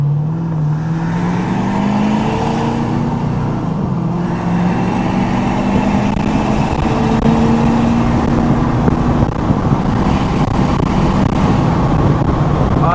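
A Ford F-series pickup truck engine pulls steadily under the cab, its tone climbing and dropping as the driver shifts from first into second and accelerates, loud and close with wind noise and no talking.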